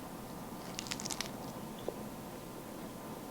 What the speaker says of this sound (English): These are your kale chips. I'm gonna eat one.